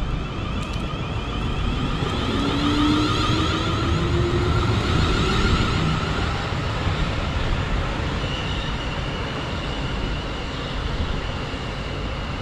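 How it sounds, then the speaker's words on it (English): A Southwestern Railway train pulls out of Basingstoke bound for London Waterloo, a loud, steady rolling rumble with faint whining tones rising and shifting throughout, close by and uninterrupted by voices. "departing now is the 1823 Southwestern Railway service from Basingstoke to London Waterloo"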